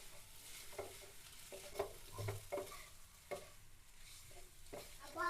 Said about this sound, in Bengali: এভাবে নাড়িয়ে চাড়িয়ে ভালো করে ভেজে নিতে হবে।